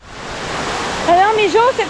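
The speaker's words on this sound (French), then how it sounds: "Nous voilà arrivés à la cascade." Continuous rushing roar of falling water, steady and full; a voice joins briefly near the end over the cascade.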